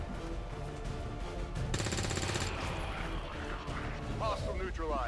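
Gunfire crackles in the video game XCOM: War of the Chosen, with a dense burst of rapid shots in the middle over a constant loud rumbling bed. A voice speaks near the end.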